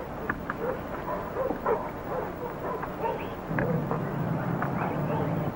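A dog in a 1947 adventure film whimpers and gives soft yips under a steady background hiss, fairly close and not loud.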